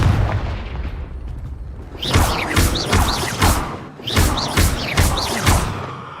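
Repeated loud Confringo blasting-spell explosions in Hogwarts Legacy, with about half a dozen booming bursts in quick, uneven succession after a quieter opening.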